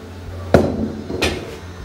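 A metal kadai cooking pan is picked up and set down, giving two sharp clanks about a second apart, close and clear with no talking.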